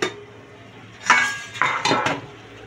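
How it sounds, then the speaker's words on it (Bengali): Metal lid lifted off a cooking pot of chicken curry, a few sharp clinks and scrapes in quick succession, close and clear against a quiet kitchen background. "এবার ঢাকনাটা খুলে নেব"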